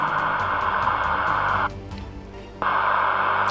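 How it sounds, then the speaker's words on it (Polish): Steady broadband static hiss from a CB radio receiver's speaker fills the clip, briefly dropping quieter for about a second before returning at full strength. "w głośniku słychać już wyraźnie szum"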